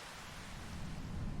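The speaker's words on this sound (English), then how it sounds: "just when the rain has stopped" Steady rain falling in Farming Simulator 25, a soft continuous hiss of even, low-level noise that swells slightly toward the end, with no voices.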